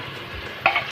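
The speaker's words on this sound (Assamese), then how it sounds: "মিডিয়াম জুইত এনেকৈ অলপ সময় মূৰে মূৰে লৰাই ভাজি থাকিম" Mutton pieces stirred and fried in a pan over medium heat, a steady low sizzle with a few louder scraping stirs near the end, close and alone.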